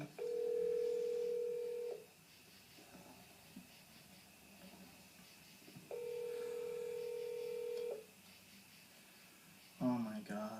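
Two long steady telephone tones, each lasting about two seconds and separated by a quiet gap, sound in a comedy scene, followed at the end by a quick burst of brighter dialing beeps.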